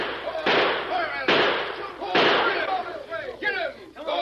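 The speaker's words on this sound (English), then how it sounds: "We hear shooting." Four loud, sharp gunshots from a Western radio drama, spaced roughly a second apart, each cracking at close range with a brief echoing tail, with voices shouting among the shots.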